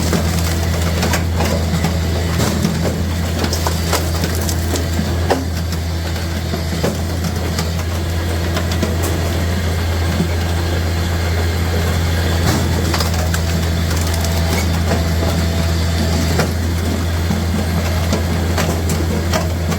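A firewood processor works through a crooked log, its steady low engine drone running continuously with scattered knocks and clatter from the splitting mechanism throughout.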